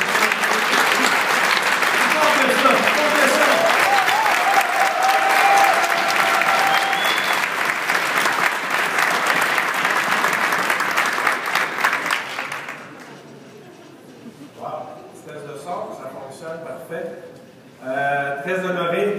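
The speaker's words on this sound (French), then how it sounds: "une très bonne main d'applaudissements pour M. Patrick Mathébé" Audience applause at a dinner presentation, dense sustained clapping from a crowd that fades out after about twelve seconds, then someone speaks alone.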